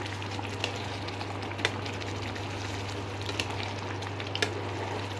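Chana murgh chicken curry, finished with ghee and a scattering of coriander leaves, is stirred in a pan under a steady close sizzle, with a few soft scrapes and clicks of the spoon scattered through; no one speaks.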